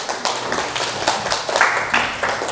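A class applauds after group presentations, a short burst of hand clapping that runs steadily for a few seconds, moderately loud and close, with no talk over it.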